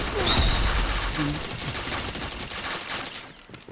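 Rapid bursts of automatic gunfire from the Point Blank online shooter game, loud and dense throughout with brief game effects mixed in, then cutting off near the end.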